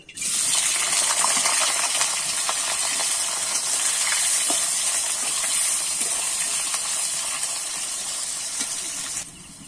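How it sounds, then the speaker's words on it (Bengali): Potatoes fry in hot oil in a pan for a Bengali jackfruit and prawn dish, giving a steady, loud hiss with faint crackles throughout, stopping abruptly near the end. "এবারে কিন্তু আমি এখানে আলুটা ভেজে নেব।"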